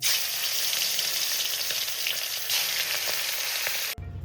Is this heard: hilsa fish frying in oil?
yes